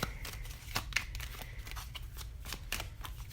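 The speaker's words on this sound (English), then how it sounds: "Let's shuffle some cards for you guys." Tarot cards are shuffled by hand close up, a soft run of rapid papery riffles and flicks in uneven bursts, fairly quiet and continuous with no talking.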